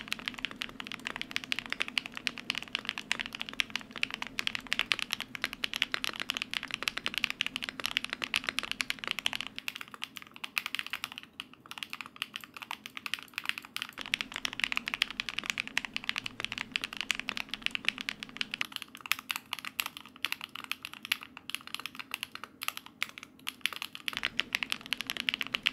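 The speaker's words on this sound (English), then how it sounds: "So completely foamless, the Resin keyboard with the mirror switches." Rapid, steady typing on a foamless Akko YU01 resin keyboard with mirror switches, close dense clacks and taps continuing throughout with no talk.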